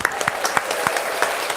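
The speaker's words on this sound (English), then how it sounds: "Give him a round of applause." Audience at a Thanksgiving talk show giving a round of applause, a steady patter of clapping with distinct individual claps standing out, fairly loud and close throughout.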